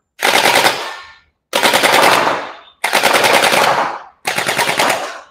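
JM Gen8 M4 gel blaster firing in four full-auto bursts of about a second each, rapid close buzzing rattles separated by short pauses, no talking.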